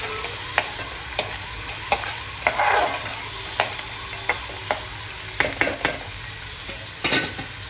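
Onion fries in hot oil in a pan, a constant close sizzle broken by regular sharp clacks and scrapes of a spoon stirring, with a few clustered hits near the end.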